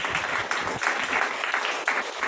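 A church congregation claps hands in a steady, rhythmic beat during a Hindi Christian worship service, the dense crowd applause filling the room.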